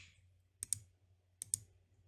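A computer mouse gives two quick pairs of crisp, close clicks, double-click style, in a quiet room.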